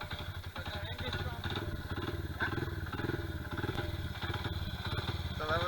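A Honda XR70R pit bike sputters and runs on ice after a kick-start, its steady low engine chug continuing throughout with people talking over it.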